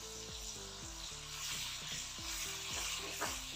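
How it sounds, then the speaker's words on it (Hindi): A spice paste with sesame seeds and ground almonds roasts in a pan, giving a steady close sizzle and frying hiss under stirring, with no talk. "अब इस सारे मसाले को हम अच्छी तरह भून लेंगे।"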